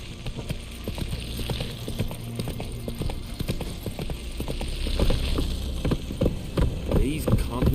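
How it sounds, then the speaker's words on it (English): A horse's hooves clip-clop at a steady walk in the video game The Witcher 3: Wild Hunt, repeated close knocks over a low ambient rumble, with speech briefly heard near the end. "Whoa there, Roach."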